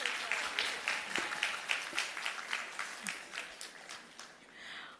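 Quiet, distant applause from a pageant audience for the backstage team at a Miss Grand Mukdahan farewell, light rhythmic clapping that thins out over a few seconds.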